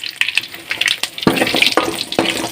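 Mustard seeds and spices crackle and spit in hot oil for a home-cooked tempering, with sharp pops over a steady sizzle, heard close.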